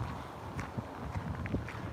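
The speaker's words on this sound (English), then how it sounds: "I know it's windy out here." Wind blowing in an outdoor city park, a steady low rumble and buffeting across the microphone with faint scattered knocks, no talking.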